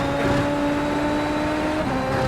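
A Super Formula race car in iRacing at the Algarve circuit, its engine holding a loud, steady high-pitched whine with a droning mechanical undertone and no audible shift in pitch throughout.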